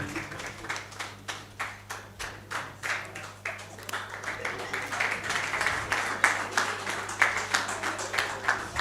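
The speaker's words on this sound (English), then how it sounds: "So, round of applause," A small audience at a live event in Kaduna claps, with a few distinct hand claps spaced out at first, then building into a fuller, faster round of applause, fairly close and moderately quiet, with a little murmuring underneath.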